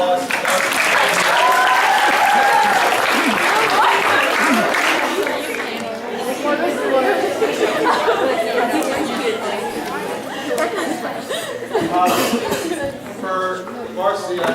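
Banquet crowd at a high school soccer end-of-season dinner breaks into loud, sustained applause. The clapping tapers off into chatter and scattered laughter around the room.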